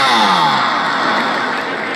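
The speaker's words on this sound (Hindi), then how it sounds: "भाई एक मेरी पठान वास्ते जोरदार तालियां" Spectators at a kabaddi match cheer and clap loudly, a dense burst of crowd noise that slowly thins out over a couple of seconds.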